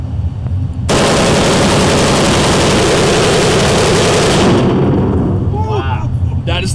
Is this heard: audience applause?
no